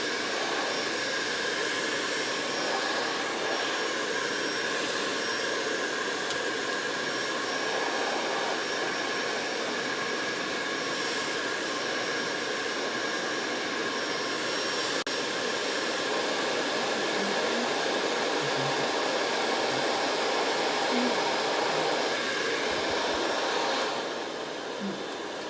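A hair dryer blows steadily on a craft piece, a constant loud whooshing hum that runs unbroken for the whole stretch with only slight shifts in tone, and no one speaking.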